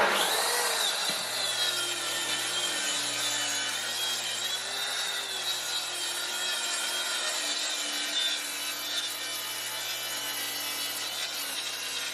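A power saw trims the edge off a solid oak board in one steady, loud, close cut, its high whine and rasp holding for the whole stretch with no talk.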